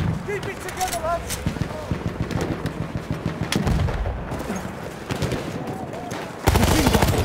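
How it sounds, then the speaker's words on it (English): Hostile machine gun fire in Battlefield 1 on hardcore mode, rapid bursts rattling continuously amid heavier battlefield blasts, loud and near, with shouting voices over the fighting. "Machine gun, hostile!"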